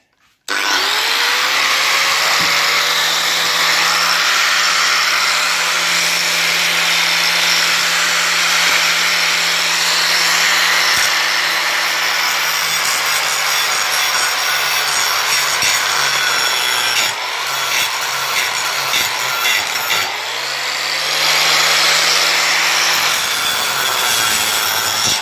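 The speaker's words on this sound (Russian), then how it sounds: "Болгарка" An angle grinder cuts into an old weathered gas meter, a loud continuous high whine with the rough grind of metal, pitch dipping briefly under load, then running on steadily to the end without talk.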